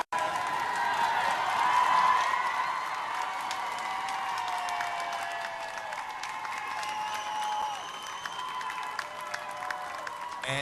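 A large outdoor crowd outside St. Mary's Hospital cheers and applauds loudly and continuously, a dense wash of clapping and whoops that holds steady throughout.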